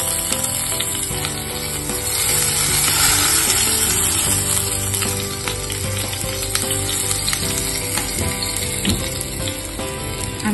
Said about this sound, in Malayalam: കോക്കനട്ട് ഓയിൽ ഒഴിച്ച് കൊടുത്ത് അതിനുശേഷം നമ്മൾ കുറച്ച് പെരിഞ്ചീരകം, പിന്നെ ഇത്തിരി പട്ട, ഗ്രാമ്പു, 2 ഏലക്ക ഇത്രയും നമ്മൾ ഓയിലോട്ട് ഇട്ട് കൊടുക്കണം.